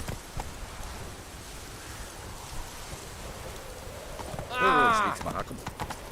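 Horse hooves clop steadily through rain in an open-world fantasy game, Roach the horse trotting along under a soft constant patter of rain, with a voice speaking briefly over it and a sharper vocal exclamation near the end.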